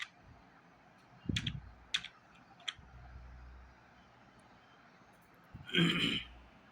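A computer keyboard clicks in a few short bursts of keystrokes with pauses between them, faint and close, alongside a low thump and a throat-clear-like noise.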